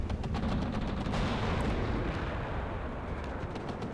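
Jaeger infantry firing on vehicles in a WARNO battle, a dense, loud barrage of overlapping gunshots and booms that continues throughout, with no voice over it.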